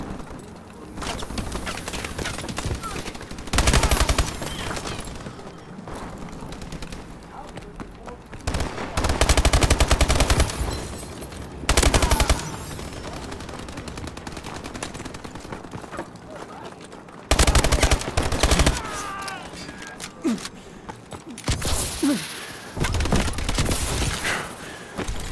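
Gunfire in the video game Call of Duty Advanced Warfare, repeated bursts of automatic fire and single shots in loud clusters across the stretch, with occasional talk over the game sounds.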